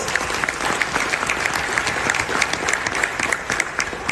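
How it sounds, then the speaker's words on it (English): A live keynote audience in the UAE applauds loudly, with many hands clapping in a thick, even roar that holds steady throughout. "Give yourselves a round of applause for those who took part in it."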